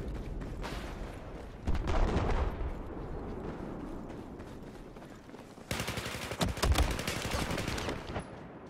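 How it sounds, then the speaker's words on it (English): Hostile machine gun fire in Battlefield 4 comes in two loud bursts of rapid crackling shots, the second longer and closer, over a noisy battlefield background. "There's a hostile machine gunner."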